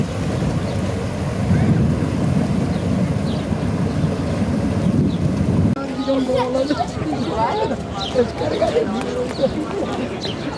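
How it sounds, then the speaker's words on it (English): A large passenger ferry manoeuvres toward its berth on Lake Garda, a steady broadband rush of water and wind noise, heavier in the first half, then lighter lapping with faint background voices. "A much larger ferry moves in, skillfully manoeuvring towards the berth."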